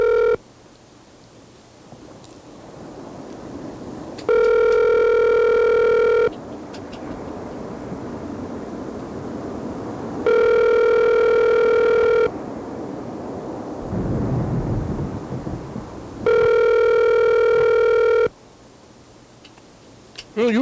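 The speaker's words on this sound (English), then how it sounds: "Phone's making weird sounds" Three sustained electronic telephone tones with stacked harmonics, each lasting about two seconds and separated by gaps, come from a phone in a recording booth, loud against a low background hum.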